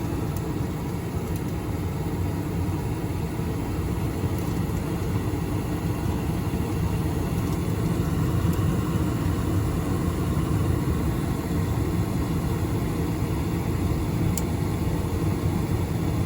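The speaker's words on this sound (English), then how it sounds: "There goes the blower." A Carrier Infinity gas furnace's blower runs with a continuous low rumble and airy whoosh. It stays steady and even throughout, without a break.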